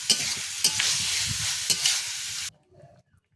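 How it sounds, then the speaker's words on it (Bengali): Spice paste stirred with cauliflower, potato and rohu fish in a frying pan, a steady sizzle broken by several distinct scraping strokes before stopping abruptly, leaving faint quiet clinks. "এটার সাথে মশলাটা ভালো করে নাড়াচাড়া করে নেব"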